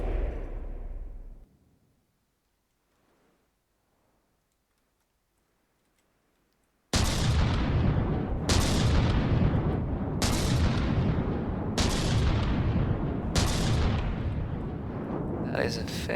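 A heavy gun fires shells in the From the Depths naval combat game, with five loud booming shots at regular intervals over a dense rumble, after an earlier quiet stretch.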